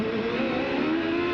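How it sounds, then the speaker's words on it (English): The noisy gearbox of Michael Andretti's 1995 CART race car, running with two gears missing, gives a steady, sustained mechanical whine with a layered engine drone, continuous and fairly loud throughout. "Boy, that gearbox is noisy."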